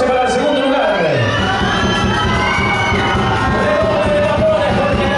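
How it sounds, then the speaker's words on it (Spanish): Spectators at a youth cueca dance championship cheer, shout and whoop for the second-place couple, a loud, continuous crowd roar with high children's voices and scattered yells, sustained throughout. "Fuerte el aplauso entonces para el segundo lugar"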